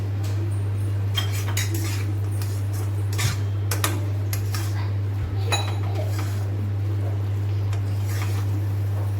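A spoon stirs green bottle gourd halwa with dry fruit in a metal pan, giving irregular metallic clinks and scrapes over a steady low electrical hum.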